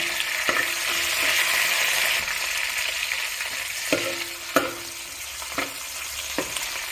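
Curry leaves fry in hot oil for Nellore fish curry, a loud, bright continuous sizzle with a few sharp stirring scrapes and clicks against the pan, and no voices.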